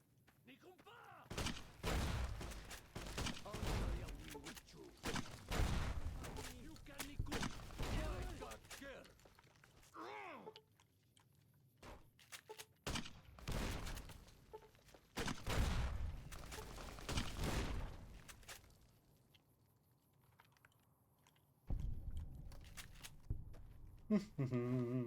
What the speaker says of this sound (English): I can fire exploding eggs out of this funny little tube thingy